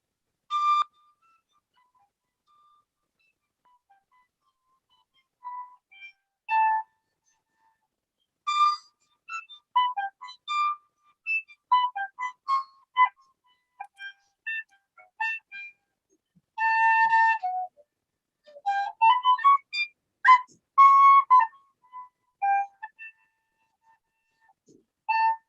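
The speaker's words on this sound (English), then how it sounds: "this is a little Irish tin whistle" A small Irish tin whistle plays a lively tune in clear, bright phrases of quick notes with short pauses between runs, close and solo with no talk.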